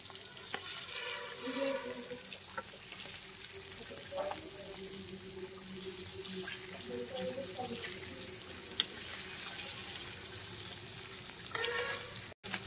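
Chicken pieces frying for biryani give a steady, moderately loud sizzle with occasional stirring clatters, a faint voice briefly present in the background.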